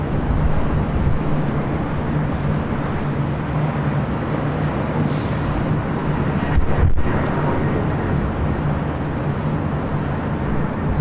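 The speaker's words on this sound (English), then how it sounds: "This is Delta Airlines Flight 1186 heading to Minneapolis in the 757-200." A Delta Airlines Boeing 757-200 jet airliner at LAX gives a steady, broad roar with wind buffeting, continuous and fairly loud throughout, swelling briefly near the middle.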